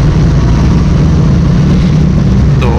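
An automatic Mehran car engine idles steadily and loudly, a constant low rumble that never changes pitch.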